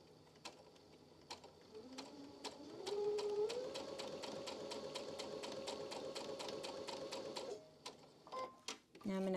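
A sewing machine stitches a medium pumpkin block for a quilt, its needle pounding in a fast, steady run that holds for several seconds before stopping, with a few stray clicks after.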